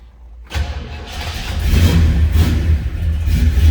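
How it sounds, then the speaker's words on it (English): A 1966 Buick Skylark two-door hardtop with a 455 V8 cranks and fires, then settles into a loud, lumpy idle with a deep rumble that builds slightly as it runs, heard close up with no talking. "Let's go ahead and fire this up so you can hear it run."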